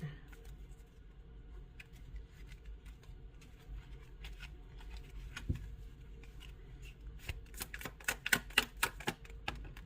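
A deck of tarot cards is shuffled by hand, giving soft, rapid papery clicks and riffles that start quietly and turn sharper and louder toward the end.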